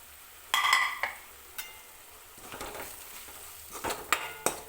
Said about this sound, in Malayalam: പച്ചമണം മാറുന്നത് വരെ നന്നായിട്ട് നമുക്ക് മൂപ്പിച്ചെടുക്കാം ആദ്യം